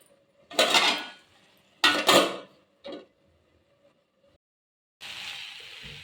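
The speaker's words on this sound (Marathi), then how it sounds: "मी आता बंद करते झाकण ठेवून" A lid is set on a cooking pot of chickpea greens bhaji, heard as two loud, close metallic clatters and a smaller clink, followed by a quiet pause and a soft hiss.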